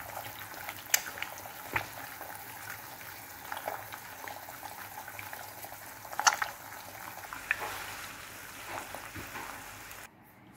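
French fries fry in hot oil with a faint, steady bubbling sizzle, punctuated now and then by small sharp pops and crackles before it cuts off near the end.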